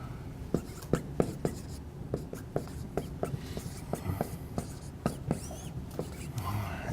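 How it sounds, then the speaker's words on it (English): Chalk or marker tapping and scratching as formulas are handwritten on a board in a derivatives lecture, a steady run of short strokes with faint background murmur. "I'm just going to real quick write these over here."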